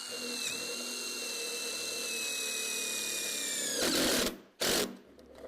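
A power drill drives screws into a bracket on a pergola box beam, a steady whining spin with falling pitch, then two short louder bursts as the fastener seats, close up and alone.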